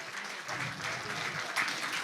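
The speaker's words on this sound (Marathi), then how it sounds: "तुमच्याही टाळ्यांचा ओघ असाच वाजत राहिला पाहिजे," Women in the audience at a Maharashtra State Commission for Women ceremony clap at a welcome, a short, soft stretch of scattered applause heard from a distance.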